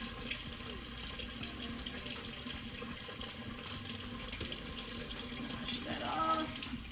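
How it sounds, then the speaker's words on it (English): Tap water runs steadily into a kitchen sink as produce is rinsed, a constant hissing splash at low level that shifts slightly near the end as the stream hits the food. "Wash that off. Give it a good rinse."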